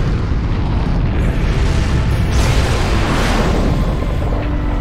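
A massive Cosmic Cannon blast from the action game Asura's Wrath roars as a loud, sustained explosive rumble, continuous and overwhelming for several seconds with no voices over it.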